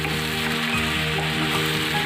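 Chicken meat frying in oil in a pan for a home-style curry, giving a steady, close sizzle with a crackling hiss that holds throughout and no talk over it.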